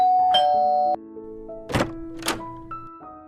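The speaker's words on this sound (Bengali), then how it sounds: "কলিং বেল দিতেই" A house doorbell sounds a clear, sustained chime of a few ringing tones. Two dull thumps follow, each trailed by fainter chime notes.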